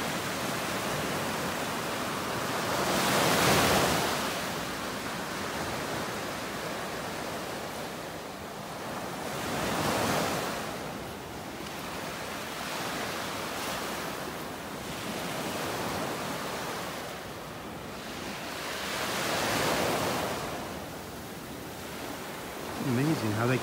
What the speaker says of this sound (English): Very relaxing, listening to the waves.